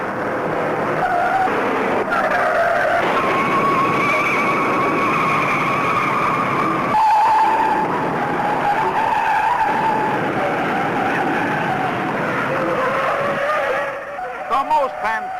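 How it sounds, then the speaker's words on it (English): Race cars skid and collide in a 37-car pileup at Daytona, a continuous loud roar of engines and sliding tires with shifting pitched squeals, fading near the end into brief clattering. "The most fantastic pileup in auto racing history takes 37 cars out of the race."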